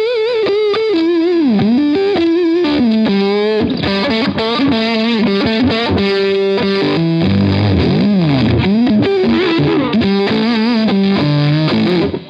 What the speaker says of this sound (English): again, you got that sputtering fuzz